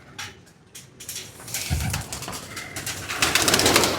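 Pakistani teddy pigeons coo inside a cage, the low throaty calls rising and thickening toward the end over a steady bed of nearby chatter and rustle.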